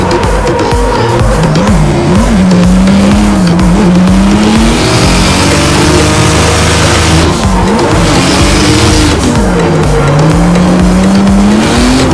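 A drift car at a drift event screams through long, loud, close tire squeals over a roaring engine, with wavering pitch slides as it skids continuously.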